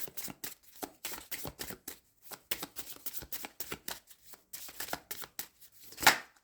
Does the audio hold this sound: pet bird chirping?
no